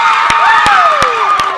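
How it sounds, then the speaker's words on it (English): A crowd at a high school softball championship game cheers loudly and continuously, with shouts and claps rising over a steady roar and a few sharp claps or bangs punctuating it. "The crowd is on"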